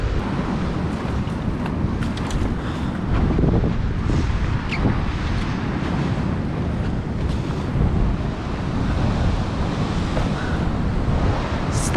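Ocean surf rolls onto an Australian beach while wind buffets the microphone, a continuous rumbling wash of breaking waves with gusty low thumps and no voices.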